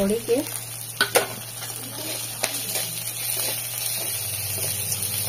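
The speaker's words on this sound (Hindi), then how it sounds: "मेरा तेल गरम होला ना सरसो टिके दे देमी" Mustard seeds fry in hot oil for a Sambalpuri-style drumstick-leaf dish, a steady loud sizzle with faint crackles close up, continuing throughout.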